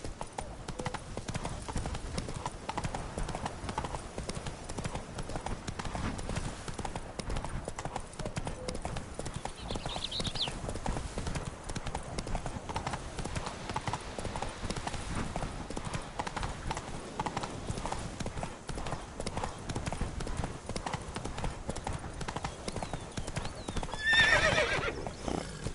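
Roach, a horse in The Witcher video game, gallops with a steady rapid clip-clop of hooves throughout, then lets out a short whinny near the end.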